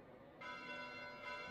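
In the video game Fire Emblem: Three Houses, bells ring in a sustained, shimmering tone that brightens partway through. The sound is faint and heard alone, with no talk over it.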